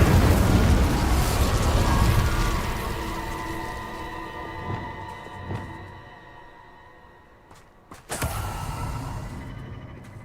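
Spell blasts and bursts from the video game Hogwarts Legacy, loud and broadband at the start then fading, with a few sharp cracks midway and a fresh heavy burst near the end, no talking.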